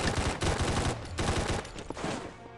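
Rapid gunfire crackles through a Combat Masters battle royale match, with several dense bursts of shots close by and a brief lull near the end.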